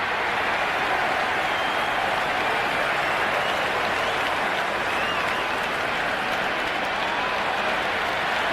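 A big crowd at an India versus Australia cricket match in the video game Cricket 26 roars and cheers without a break, a dense wall of noise held at steady loudness.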